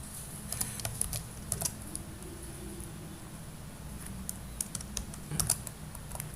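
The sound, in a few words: typing Java code on a computer keyboard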